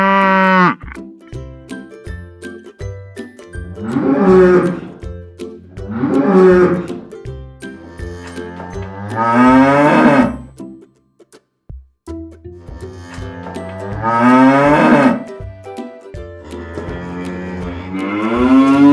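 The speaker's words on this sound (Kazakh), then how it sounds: "Сиыр сүйеді баласын торпағым деп" A cow lows four times in long, drawn-out moos separated by short pauses, loud and near, with no other sounds around them.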